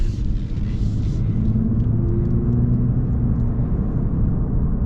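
A 2024 Lexus RC 350 AWD on the road, heard from inside as a steady low engine and tyre rumble with a faint rising whine, continuous and smooth, no talk.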